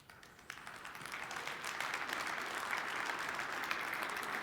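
An audience at an energy and innovation policy speech breaks into applause, starting thin and quickly swelling into a steady, dense wash of clapping that holds for several seconds at moderate distance.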